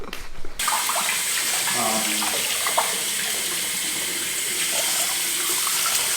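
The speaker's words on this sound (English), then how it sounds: "Washing your grits is a must." Grits being washed under a running kitchen tap, a steady close rush of water spilling and splashing continuously throughout, with no talking.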